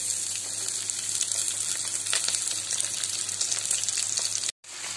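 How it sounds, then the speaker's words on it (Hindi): Finely chopped onion and green chillies hitting hot oil in a pan, giving a steady, loud hiss and crackle of frying throughout, with a brief dropout near the end. "हमारा तेल हो गया है और इसमें मैं डालूंगी एक बारीक कटा हुआ प्याज"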